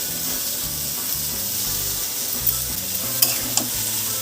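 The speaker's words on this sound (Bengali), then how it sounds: "একটু ওপর নিচ করে দিচ্ছি," Ridge gourd curry with slit green chillies and a little water is stirred in a pan, giving steady scraping and soft sizzling throughout, with no talking.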